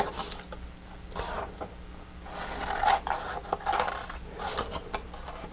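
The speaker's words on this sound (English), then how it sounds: "cut in on my second score line, cut my triangles." Scissors snip and rasp through card while triangles are cut along a score line for a Christmas pinecone gift card box, a series of short, close, papery cuts at uneven intervals.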